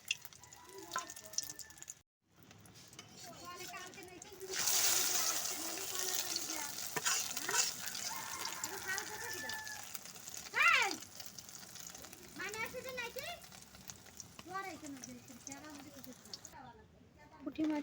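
An egg sizzles in hot oil in a pan on the stove while someone speaks over the steady frying crackle, with occasional stirring scrapes.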